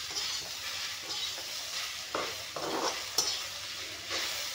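Okra frying in a small amount of refined oil in a pan, a steady soft sizzle with occasional louder scraping stirs, close and alone with no talk.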